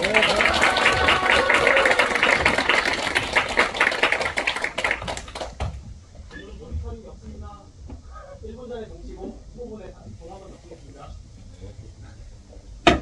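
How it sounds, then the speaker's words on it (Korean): Audience in a union hall auditorium applauding candidates at a campaign rally, several seconds of loud dense clapping that abruptly drops to scattered claps and talk. "힘찬 박수로 모시겠습니다"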